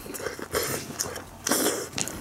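Close crunchy bites and chewing of crispy shrimp pizza with mozzarella and parmesan, a few sharp crisp crunches with quiet pauses between, no talking.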